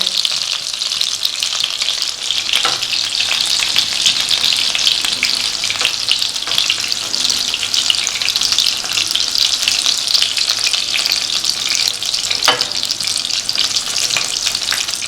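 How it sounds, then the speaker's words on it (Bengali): Rohu fish frying crisp in hot oil, a loud, steady crackling sizzle that continues without a break, with a few faint clinks along the way. "একটু কড়া করেই ভাজা হয়েছে এবার মাছগুলোকে তুলে নিতে হবে"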